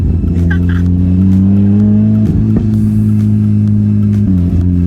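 A turbocharged Mazda Miata engine drones loudly and steadily with rising and falling revs, a couple of brief shifts in pitch, and faint voices underneath.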